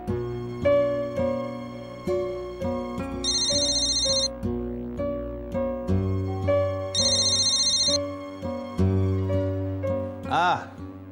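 A melodic mobile phone ringtone plays as a repeating electronic tune at a steady, clear level, with brief bright high chimes recurring, in a domestic scene from a Marathi TV serial; a short vocal sound comes near the end.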